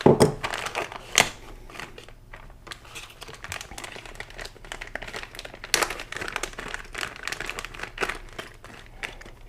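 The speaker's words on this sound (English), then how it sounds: "So let's open up the package." Plastic packaging of a Rivco trailer wiring harness for a Honda Goldwing being opened, with continuous close crinkling and crumpling, sharp rustles and several louder tearing bursts over nearly ten seconds, no talking.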